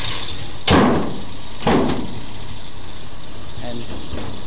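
Two solid, heavy thunks of a steel door shutting on an old diesel Suburban, about a second apart, close and loud over the low, slightly rough idle of the engine.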